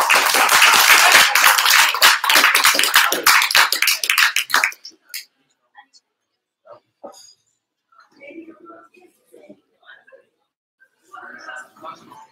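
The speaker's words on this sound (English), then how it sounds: "before we break, a round of applause for Sammy again, please." A small audience at an entrepreneurs' branding talk gives the speaker a round of applause, a close burst of clapping lasting about five seconds before fading into quiet murmurs and scattered talk.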